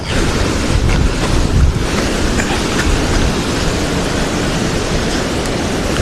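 Flash floodwater in Kerala rain rushes past carrying trees and logs, a loud, continuous roaring wash with heavier surges near the start and no voices.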